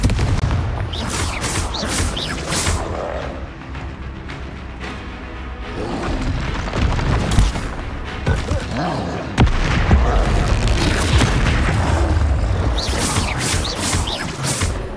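Fire spell blasts go off in Hogwarts Legacy gameplay, loud booming explosions repeating at intervals amid crackling game effects and music, with a voice calling out between them.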